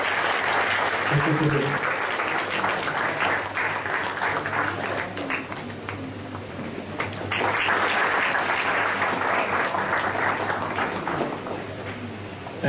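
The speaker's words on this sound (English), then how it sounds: "A big round of applause for" Sustained applause from an audience at a conference session welcoming a speaker, steady and full for most of the stretch, with a voice speaking over it near the end.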